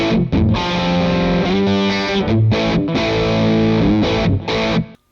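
Stratocaster electric guitar through a Catapult pedal set as an overdrive, played in bright, gritty chords and riffs with short gaps between phrases, loud and close, no talking.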